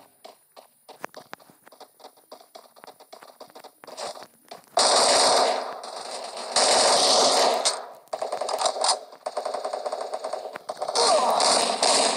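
Rapid bursts of synthetic gunfire in Free Fire, quiet ticking at first, then loud sustained volleys with brief pauses between them.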